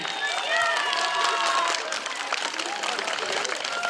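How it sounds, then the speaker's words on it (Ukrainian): A crowd at a Ukrainian Trinity (Green Holidays) festive event applauds a young man named Mar'yan, lively clapping with cheering voices mixed in, loud and dense. "Оплески Мар'янові!"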